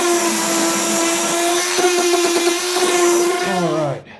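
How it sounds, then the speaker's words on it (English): A power sander works a handmade wooden bowl with a steady, close whine and rough scratchy texture, winding down at the end. "I'm going to keep sanding now"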